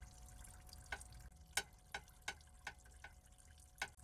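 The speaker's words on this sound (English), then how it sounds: "While it's draining, let's work on CVT lines." Coolant draining from the cooling system of a 2013 Subaru Outback, heard as a quiet trickle with a series of distinct drips falling at irregular intervals, close by with no talk.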